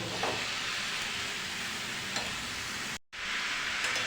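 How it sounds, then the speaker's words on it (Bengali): Food, with prawns to be added, fries in a pan with a steady, dense sizzle while it is stirred, broken by a brief gap near the end before the sizzling resumes. "আরও একবার নাড়া দিয়ে দেখাচ্ছি কত সুন্দর দেখুন"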